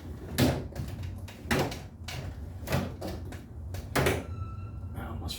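A drawer holding hammers is pulled open and rummaged through, with several loud clattering bangs and rattles at irregular intervals, close by.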